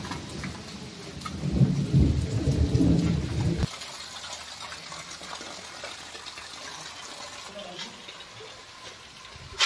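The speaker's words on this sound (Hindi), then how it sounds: "देखिए बरसात हो रही है अभी" Rain falls over a school grounds with a low rumble of thunder rolling through the first few seconds, then the steady patter of rain continues more quietly on its own.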